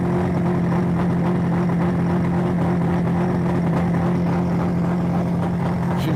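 A boat engine holds steady at 3,000 RPM, a loud, continuous, even drone with a strong low hum that stays constant throughout, heard up close with no talking.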